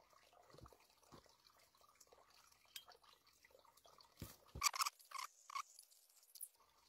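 Spring water is scooped into a container at a wooded spring in Lithuania's Alytus district. Quiet, sparse drips and trickles give way to a cluster of louder splashes and pours near the end.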